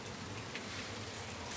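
Steady rain falling in the far south of Bahia, Brazil, a continuous dense hiss of drops with no breaks, even and moderately soft, with no voices.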